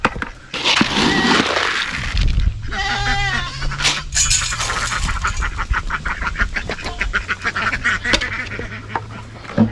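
Goats bleat repeatedly, loud and close, mixed with honking and quacking from ducks and geese in a busy farmyard chorus with turkeys nearby.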